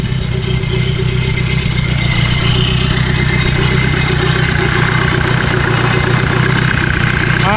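A buggy engine idling after being restarted and thawed from freezing, loud and close with a steady low rumbling throb that holds evenly throughout.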